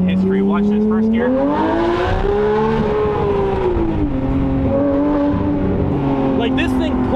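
Porsche 911 GT3 Touring engine pulling hard in first gear, a loud steady harmonic note rising in pitch as revs climb and flattening near the end, recorded close with no talking.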